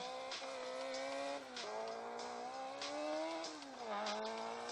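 Race car engine in the Block City Wars game, a continuous high revving drone that dips and climbs with gear changes and throttle, loud and alone.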